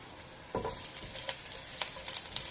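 Ginger and garlic dropped into a hot pan for ginataang tulingan, a sudden burst of sizzling followed by steady frying crackle and light stirring scrapes, close and soft.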